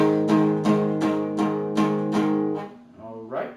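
Guitar barre chords strummed in a steady rhythm, about six even hits ringing out, then the strumming trails off into a softer, scattered note or two.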